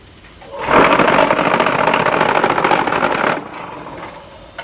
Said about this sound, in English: QTJ4-40, the same automatic block making machine.